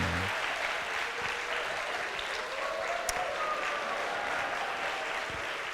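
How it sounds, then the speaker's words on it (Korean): Congregation at a Friday worship service applauding steadily throughout, a dense even patter of many hands filling the room with no talk over it. "박수"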